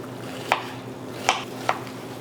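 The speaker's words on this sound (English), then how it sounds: "I'm going to do a nice thin shaving of the onions" A knife slices thin shavings from an onion for paella on a board: three crisp, separate cuts against a quiet steady background hum.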